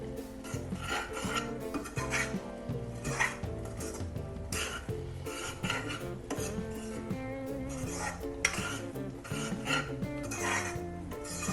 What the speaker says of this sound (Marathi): आणि मिसळून परत आपण हलवतोय आता आणि शिजू देतोय थोडं